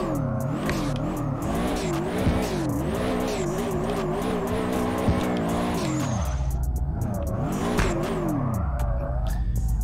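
A boxer-engined AE86 drifting in DRIFT21 revs up and down with squealing tyres, and sharp popping bangs from the exhaust crackle through the steady engine drone, especially as the revs drop.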